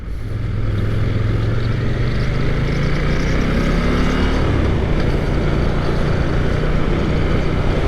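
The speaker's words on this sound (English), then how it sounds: "Second gear, just giving it the beans here." A 2023 KTM 890 Duke R motorcycle accelerating hard in second gear: a loud, sustained engine roar with rising pitch as revs climb, steady and close throughout, mixed with wind rush and no talking.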